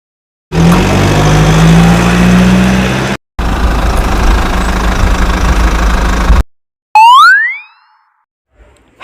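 A truck engine runs steadily and loudly with a low droning hum, then a rougher rumbling stretch, followed by a short rising whistle-like tone near the end.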